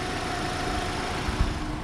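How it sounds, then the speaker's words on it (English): A Nissan Rogue engine idling steadily while warming up after an AC compressor clutch install, a low, continuous hum and rumble, close and even, with a faint thump near the end. "Engine is warming up."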